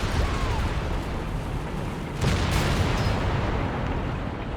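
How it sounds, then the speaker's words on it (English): Officer-called artillery barrage in Company of Heroes 3, rumbling booms and blasts rolling through a steady, noisy battlefield din, with faint voice in the background. "Just for a cheeky officer barrage"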